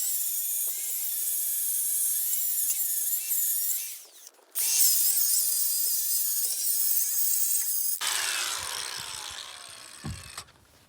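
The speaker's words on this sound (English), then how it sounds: "I need to grind more off." An angle grinder bites into the steel tongue of a Triton TR20 bass boat trailer, a loud, harsh, sustained whine that dips briefly midway and then continues with a rougher tone.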